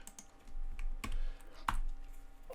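A computer keyboard clicks as keys are pressed for an Excel shortcut: a few sharp, separate taps up close over a quiet background.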